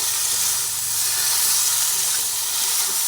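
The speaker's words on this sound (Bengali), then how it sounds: "ওই ঢেঁড়সগুলো যে ভেজে তুলে রেখেছিলাম সেগুলো আবার এর মধ্যে দিয়ে দিলাম আমার ভালোভাবে নাড়াচাড়া করে দিই" Fried okra stirred back into a hot pan, giving a continuous loud steamy hiss and sizzle with no voices.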